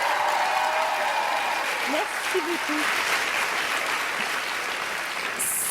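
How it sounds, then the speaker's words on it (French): A television gala audience applauds steadily throughout, a dense wash of clapping with a brief spoken thank-you over it near the middle. "Je pense que ça mérite encore une bonne main d'applaudissements."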